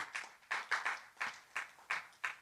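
Church congregation clapping along in a steady rhythmic beat, with sharp regular claps repeating about twice a second, fairly close and without talk.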